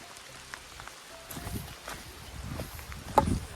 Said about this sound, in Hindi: बारिश दे रही है, बारिश